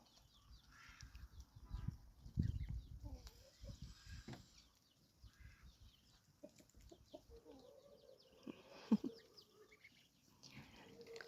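Quiet sounds from ducks and young ducklings, soft quacks and clucking nearby, with rustling and shuffling movement, a few louder calls scattered through.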